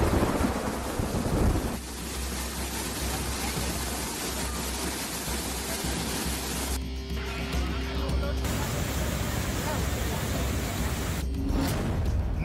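Heavy monsoon rain pouring down in a dense, continuous roar with deep rumbling thunder underneath, loud and unbroken throughout.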